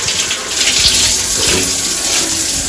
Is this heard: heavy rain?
no